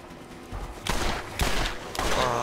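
Revolver fire in the video game Borderlands, a few sharp reports spaced about half a second apart, each with a bright crack and short tail, loud and close with no talk.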